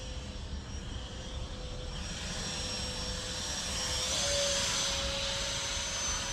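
A 3D printed Gripen RC jet plane flying overhead, its steady electric ducted-fan whine droning continuously with a slight rise in pitch midway, fairly distant and alone without talk.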